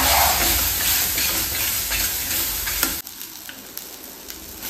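Onion-garlic masala and red chilli paste sautéing in oil for a crab curry, a loud steady frying sizzle with stirring scrapes that drops to a quieter, fainter crackle partway through.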